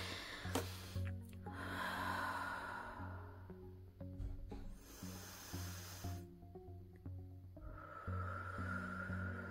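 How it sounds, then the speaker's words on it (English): A few slow, deep breaths are drawn in and let out close by, soft hissing inhales and exhales spaced several seconds apart over a low steady hum. "I'm going to take a few deep breaths."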